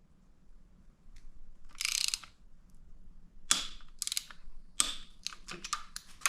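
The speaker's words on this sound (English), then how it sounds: "This old cheapo Harbor Freight torque wrench." A cheap Harbor Freight torque wrench tightening fuel injector bolts on an LB7 Duramax 6.6 diesel engine, heard as quiet ratcheting bursts and sharp clicks in short irregular runs, close up and without talk.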